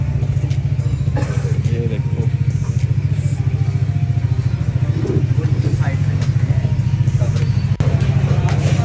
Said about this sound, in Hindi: गाइस एग्जॉस्ट चेक करो इस बाइक के